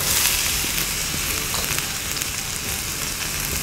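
Onions hit hot oil in a smoking wok for fried rice, giving a loud, dense, continuous sizzle and crackle up close, with no talking over it.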